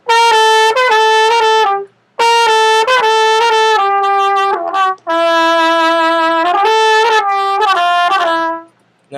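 Solo trumpet plays the melody of a song, ornamenting each note with a quick turn; bright, sustained, loud phrases separated by short breaths, close and alone.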